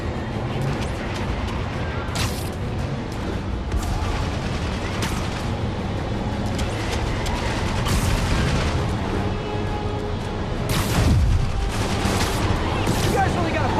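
Enemy gunfire in Marvel's Spider-Man, steady crackling volleys with scattered louder booms and sharp reports across the whole stretch, mixed with voices talking.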